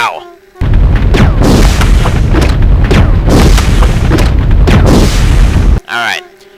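BOW gas rounds fired in Resident Evil Code: Veronica X, a series of loud booming blasts in rapid succession with brief echoing tails, stopping abruptly near the end before one short trailing sound.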